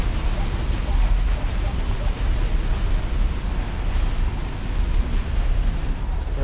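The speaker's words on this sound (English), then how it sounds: "These are definitely gonna be cannons." Deep, rumbling booms roll on continuously, heavy cannon blasts blending into a constant low roar with no pauses, in the video game Defense Grid 2.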